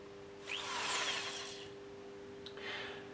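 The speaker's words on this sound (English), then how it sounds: "Now I'm drilling a hole here" A power drill drilling a hole in foam whines up in a rising and falling burst for about a second, then a shorter, quieter second burst follows after a pause.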